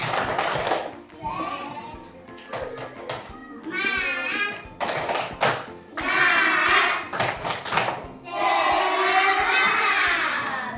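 Schoolchildren in a classroom perform a rhythmic spirit clap, bursts of patterned clapping alternating with their chanting voices, lively and close, with several loud clustered sections.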